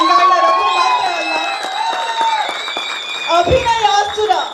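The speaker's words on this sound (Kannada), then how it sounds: "ಜೋರಾದ ಚಪ್ಪಾಳೆ." Audience at an award event for an actor cheering and whooping in a sustained, crowded roar, with scattered claps and shouts under an announcer's voice.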